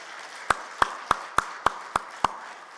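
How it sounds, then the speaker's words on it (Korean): Seven evenly spaced sharp claps, one every third of a second or so, loud and isolated against a quiet background, rising at a church prayer service where the congregation is called to applaud. "주님께 한번 큰 영광의 박수 올려드리겠습니다"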